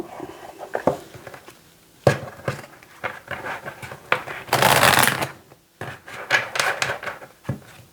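Oracle cards shuffled close by, with bursts of papery riffling and slapping that swell into a dense flurry midway before trailing off into lighter taps, and no voices over them.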